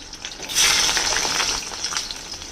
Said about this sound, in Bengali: আলুটাকে আগে প্রথমে ভাজা করে নেব